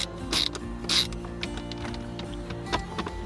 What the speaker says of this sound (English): at this point, let's install the screws on the top. Start with that middle screw.